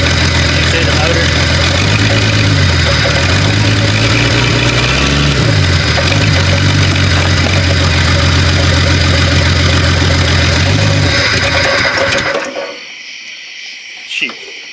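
Rebuilt car engine idling steadily and loud after a four-month rebuild, a continuous low rumble with small pitch changes, then cutting out abruptly near the end, leaving quiet with a faint knock.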